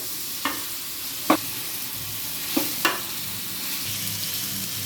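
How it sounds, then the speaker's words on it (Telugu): Tomato pieces frying with masala in a pan for a fish curry: a steady, moderate sizzle broken by a few sharp spoon scrapes and taps against the pan. "వేసుకుని టమాటో ముక్కలు లైట్గా వేయించుకోవాలి."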